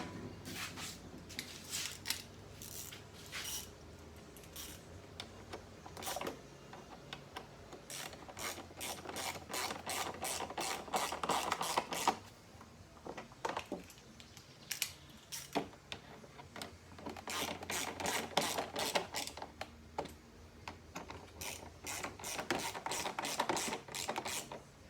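Hand ratchet tightening four bolts on a 1990 Harley-Davidson Electra Glide Evo, several bursts of rapid close clicking separated by short pauses, with no talk.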